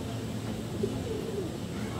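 Soft pigeon-like cooing in Plaridel, Bulacan, sits low beneath steady background hum and faint voices, a couple of brief coos rising in the middle.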